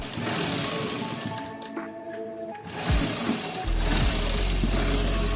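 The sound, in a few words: sewing machine stitching a shirt hem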